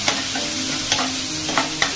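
Potatoes with chili powder sautéing in oil in a pan, a steady hiss of frying with intermittent scraping clinks of a spoon stirring, close and continuous with no talking.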